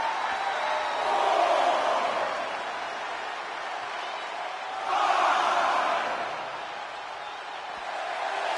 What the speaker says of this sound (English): Lita's showing the crowd some love, and they're returning the favor.